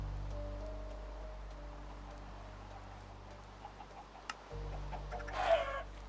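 A Minecraft chicken clucks briefly near the end over a quiet, droning background hum.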